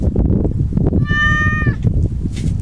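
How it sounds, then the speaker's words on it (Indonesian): A cat meows once, a clear drawn-out call near the listener, over steady low background noise on a seaside fishing outing where sea bream, needlefish and crabs are caught. "Naririnig ko na naman yung pusa."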